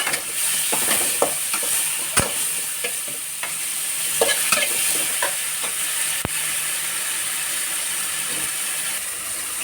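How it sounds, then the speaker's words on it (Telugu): Green chillies, dried red chillies, cumin and curry leaves fry in hot oil as a tomato-peanut chutney is made, giving a steady close sizzle broken by repeated stirring scrapes and clicks, with no talk. "పచ్చిమిరపకాయ ఒట్టిమిరపకాయలు జీలకర్ర కరివేపాకు వేసుకొని పక్కన పెట్టుకోవాలి"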